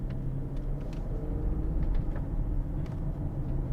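A 2022 Land Rover Range Rover P400 engine running while driving, a low steady rumble of engine and road noise with faint higher ticks over it.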